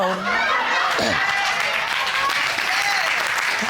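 TV courtroom studio audience breaks into loud, dense applause mixed with some laughter and whoops, with a brief voice near the start and the clapping holding steady throughout.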